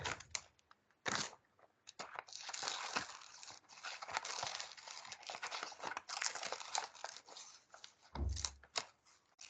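Scissors cut curved shapes in paper for a handmade pocket zine, giving a close run of quiet snips and crinkly paper rustles that carry on for several seconds with brief pauses.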